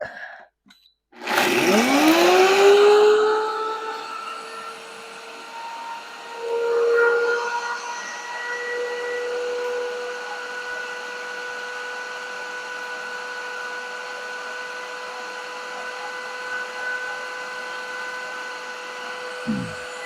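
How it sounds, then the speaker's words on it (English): A blender motor spins up with a rising whine, then grinds eggshells into fine powder steadily and loudly at a constant high pitch for a long stretch. "what I really like about this blender, it really gets this to a really, really fine powder"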